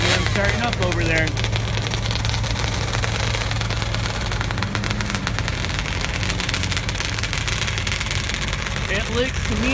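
A drag race car engine idles after starting at a 2016 SCSDA season opener, a steady rough rumble under loud continuous track-side noise and announcer talk.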